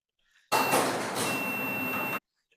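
A single continuous buzzing beep from a multimeter's continuity test on an extension junction box, about one and a half seconds long, loud and close, with silence before and after.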